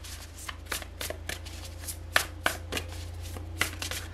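Tarot cards being shuffled by hand, a run of quick riffling flicks and soft taps in an irregular rhythm, close and fairly quiet against a low steady hum.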